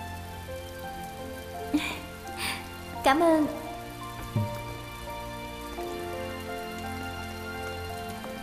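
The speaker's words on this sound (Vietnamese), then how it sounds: "Trời mưa rồi" Rain falls steadily in a dubbed drama, a soft continuous patter under voices, music and a few brief thuds.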